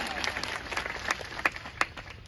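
An audience at a farmers' gathering claps to welcome a speaker, a dense patter of applause with a few sharper claps standing out, moderately distant.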